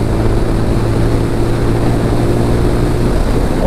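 A TVS Apache RTR 200 4V Race Edition motorcycle engine runs smoothly, a loud, close, constant drone with no changes in pitch or pace.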